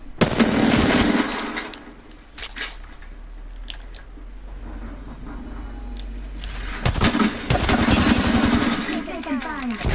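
Apex Legends gunfire crackles in rapid bursts at the start and again near the end, with quieter game noise and a speaking voice in between.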